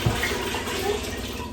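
Tap water running steadily into a pot or measuring vessel for pickle canning brine, a continuous close splashing rush with no talk over it.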